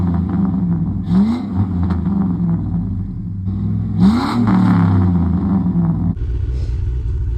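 A Jeep engine idles with a deep rumble, then revs up twice in strong rising bursts before settling back, loud and close.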